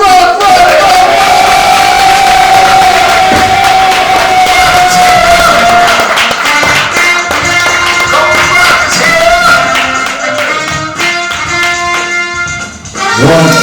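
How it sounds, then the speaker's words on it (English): At a live hip-hop event in Atlanta, a loud crowd cheers, whoops and claps for a pioneering MC, with music playing strongly underneath and the noise fading near the end. "Let's give it a round of applause."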